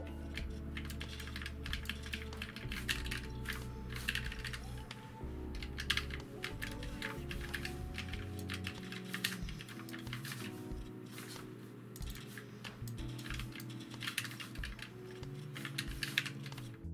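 Rapid typing on a Fnatic Streak 65 gaming keyboard fills the whole stretch with dense, close key clacks in uneven bursts, with a faint low hum underneath and no talking.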